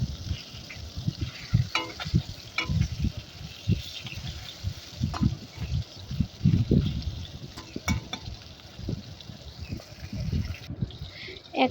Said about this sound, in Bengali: এক পাশ ভালোভাবে ভাজা হয়ে গেছে, এবার উল্টে দিয়ে আরেক পাশ ভালোভাবে ভেজে নেব